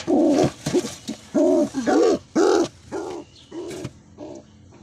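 Pigeons cooing close by in a breeder's loft, a series of soft, throaty rolling coos in short bursts that gradually grow fainter, with no talking.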